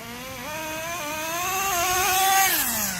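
A Schumacher Menace GTR three-speed RC car runs close by outdoors. Its engine whines steadily and rises in pitch, with audible shifts between gears and a drop at the end, and no voices.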